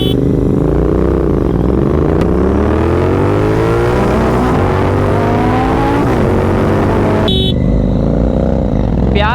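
Kawasaki Z900 and Royal Enfield Continental GT 650 motorcycles accelerating hard in a drag race, a loud continuous engine roar with climbing revs through the gears, briefly dipping near the end before picking up again.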